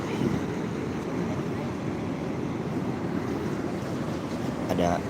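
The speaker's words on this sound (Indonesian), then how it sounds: "Suara ombak." Ocean waves break and wash steadily on a beach at sunrise, a continuous rushing surf with wind buffeting the microphone throughout.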